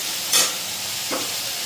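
Vegetables frying in a pan at home for breakfast, a steady close sizzle with two brief louder hissing bursts as the food is stirred, no talking.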